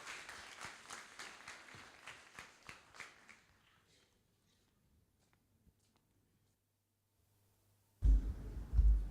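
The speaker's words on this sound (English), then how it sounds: "Give her a round of applause." An audience at a 2009 school debate claps for the first speaker: a brisk round of applause that fades out after a few seconds, leaving near silence before a voice starts.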